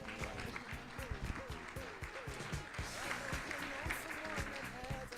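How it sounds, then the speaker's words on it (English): At a King County Executive candidate forum, an audience gives a round of applause, a dense, steady clapping that continues under a voice speaking over it. "A round of applause, everybody."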